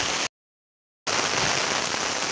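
Steady, dense rain pours down with a constant hiss, loud and close, broken once by a brief gap of near silence before the downpour resumes at the same level.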